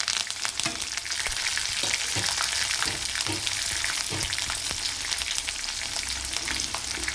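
Curry leaves, onions and cashews sizzle steadily in a hot pan for upma, a dense, continuous crackling fry close to the mic with occasional stirring scrapes.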